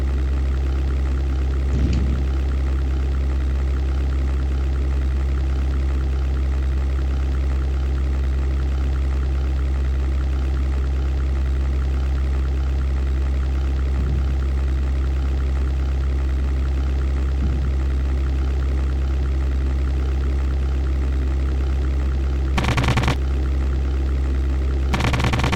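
In the flight sim European Air War, a WWII Luftwaffe fighter's aircraft engine drones with a loud, steady low-pitched hum throughout, with a few faint clicks and a brief burst of machine-gun fire near the end.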